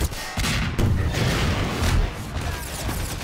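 A tank firing at the player in Half-Life 2: Episode One, with several heavy booming shots and thuds landing in quick succession amid loud, rumbling combat noise.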